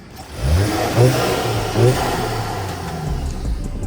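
A 2015 Audi A3 engine with a catless downpipe revs up and down in a few surges, with a steady mid-low rumble and a faint turbo whistle on top, fairly close and loud.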